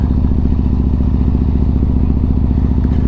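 A Yamaha MT-01 motorcycle rides through Cheddar Gorge, its engine a loud, steady, close rhythmic thump throughout, with no voices.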